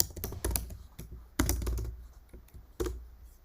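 Quick, uneven clatter of keys on a computer keyboard, close and fairly loud, with bursts of rapid strokes broken by brief pauses and a few firmer hits.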